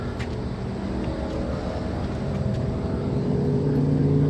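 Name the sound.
motor running somewhere nearby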